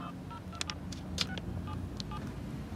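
A mobile phone keypad being dialed, a quick run of single and paired DTMF beeps at an uneven pace over a low background rumble, heard close and with no talking.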